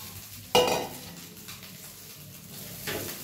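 Cooked rice tipped into a pan of fried curry leaves and garlic, one sharp clattering scrape followed by a soft low sizzle and a second light stir near the end.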